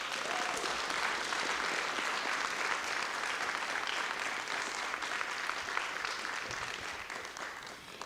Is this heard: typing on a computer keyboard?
no